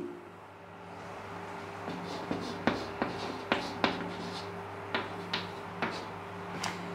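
Notes are written by hand, with a string of sharp pen taps and short scratchy strokes at an uneven rhythm over a quiet steady hum.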